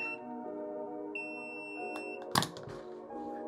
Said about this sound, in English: so it's beeping.